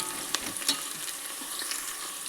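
Spiced chicken frying in a pan for gongura chicken, with a steady sizzling hiss and a couple of brief stirring clicks.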